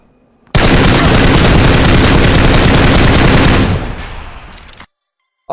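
Sustained automatic M4 rifle fire from the PUBG video game, a loud dense burst of rapid shots running for about three seconds before trailing off into a fading tail and silence.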